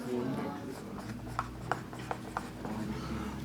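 Numbers are written on a board during an Arabic class, producing several soft, brief tapping and scratching strokes under a steady room hum.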